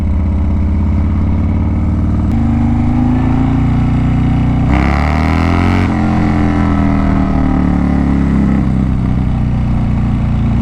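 A motorcycle being ridden, its engine droning loud and steady throughout with rising and falling pitch as it shifts and accelerates, plus a surge of wind noise partway through.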